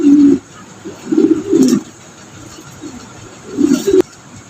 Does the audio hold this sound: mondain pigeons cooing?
yes